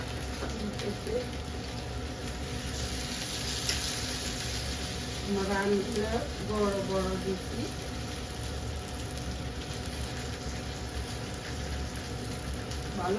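Meat sizzles in a hot pan on a home stove, a steady hiss and crackle like rain that runs the whole time, while someone talks over it.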